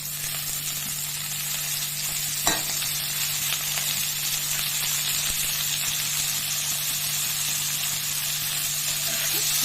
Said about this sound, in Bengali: আলুটাকে হালকা ভেজে নেব পেঁয়াজের সাথে আলুটা ভাজা ভাজা হয়ে গেছে